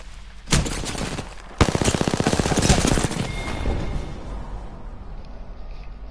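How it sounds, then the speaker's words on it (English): Gunfire in a PS4 shooter striking the player: two sharp shots followed by a rapid burst of automatic fire that rattles for about two seconds and trails off into a fading rumble. "Shots fired, and they're hitting me"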